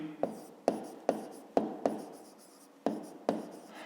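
Pen strokes scratch across paper while working a 5th-grade maths exercise, seven short, sharp bursts spaced irregularly, each fading quickly, close and moderately quiet with no talk.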